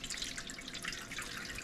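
Hot water, 1.5 cups, poured into the bottom of a roasting pan holding a powdered goose, a steady splashing, trickling stream heard up close and alone throughout.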